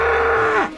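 A cow gives one loud, close moo that holds steady and then drops in pitch as it fades out, with nothing else over it.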